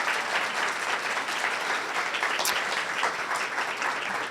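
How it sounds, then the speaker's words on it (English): Steady audience applause fills a town hall at Sweet Briar College, a dense wash of clapping hands that holds at an even level for a few seconds. "Let's give them a round of applause"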